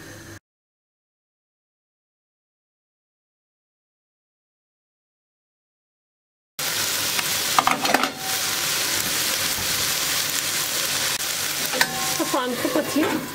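After a long silence, loud sizzling and frying erupts as chicken goes into a pot on high heat, with occasional stirring clatter over the constant hiss.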